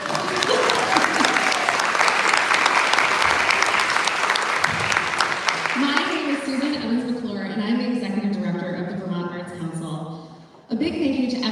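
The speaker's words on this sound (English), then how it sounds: "That's when you applaud." An audience at a representative's arts and humanities community event at the Chandler Center claps loudly and steadily for several seconds, then the applause gives way to a person speaking.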